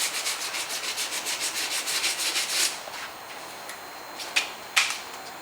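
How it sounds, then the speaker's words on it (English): Sandpaper is worked by hand over Bondo body filler on a damaged car panel. It gives a close, rhythmic rasping in quick regular back-and-forth strokes, then a pause with a few light scrapes and taps. "I'm still hand sanding"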